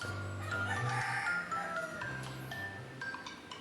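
Chickens cluck and call repeatedly in a Filipino household yard, a moderately loud, steady run of squawks and clucks over several seconds with no voices.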